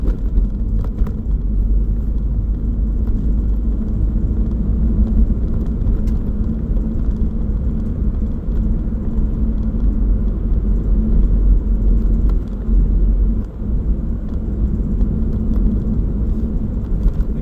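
A Volkswagen Transporter Sportline 2.0 BiTDI van with DSG gearbox drives up a road, its engine and tyre rumble loud and steady from inside the cabin throughout.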